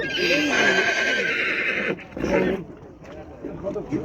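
A horse at the Kyzylorda livestock market neighs loudly and close for about two seconds, then fades into market background with voices and faint clip-clop.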